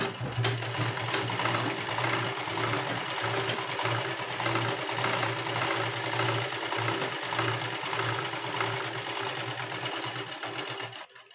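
A sewing machine runs steadily for about eleven seconds, sewing a straight fitting seam on an unlined princess-cut blouse with one continuous stitching run, loud and close, with no talk, then stops at the end.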